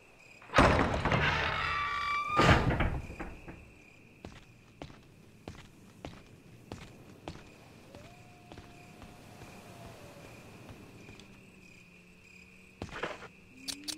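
Footsteps echo in the Resident Evil HD video game, a steady series of hard, distinct steps at walking pace, preceded by two loud thuds, over a faint constant insect-like hum in a cave setting.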